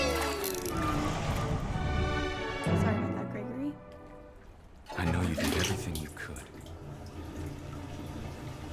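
Bathwater gurgles and rushes down the drain of a tub in the video game What Remains of Edith Finch, a steady watery swirl with playful sound effects and voices talking over it.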